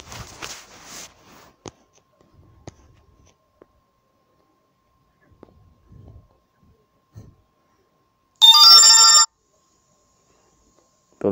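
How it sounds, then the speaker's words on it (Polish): A phone notification sound rings out as one loud, short tonal burst lasting under a second, following a long stretch of near silence broken only by faint scattered taps and shuffles. "Powiadomienie."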